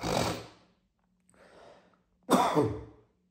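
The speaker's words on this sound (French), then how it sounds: "Combien de temps je vais tousser?" Three bouts of coughing and throat clearing, the first and last harsh and loud, a softer rasp in between, separated by short pauses.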